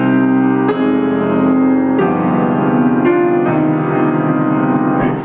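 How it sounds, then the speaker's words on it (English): Piano chords played with the sustain pedal held down, each new chord struck about every second and ringing into the last, so the notes pile up into a muddy, loud wash with no voice. "because otherwise I get a cacophony of sound like this."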